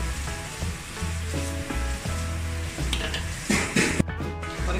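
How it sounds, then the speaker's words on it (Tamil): Amla simmering in thickening sugar syrup in a pan, a dense bubbling sizzle with repeated scraping stir strokes and a few louder clatters near the end. "அந்த சீனி எல்லாம் நல்லா வத்துற மாதிரி பாகு அப்படியே கிளறி கிளறி எடுத்துட வேண்டியதான்"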